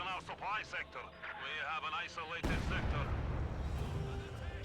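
Mortar shells and explosions from a heavy mortar barrage in Company of Heroes 2 thunder loudly beneath continuous commentary, with a denser burst of blasts in the second half.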